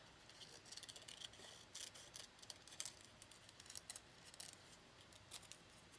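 Faint, irregular snips of scissors cutting freehand paper letters, a series of short crisp clicks and rustles at a quiet level with no voices.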